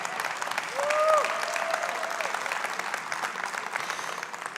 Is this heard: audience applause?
yes